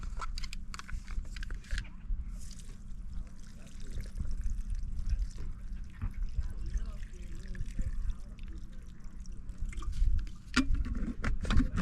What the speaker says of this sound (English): Add water.